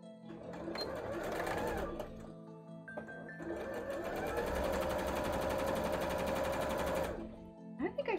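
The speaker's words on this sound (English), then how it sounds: "Right, let's sew this on." A sewing machine stitching cosplay shorts runs in two loud, close bursts of rapid mechanical chatter with a brief pause between them, and a voice talks over it at times.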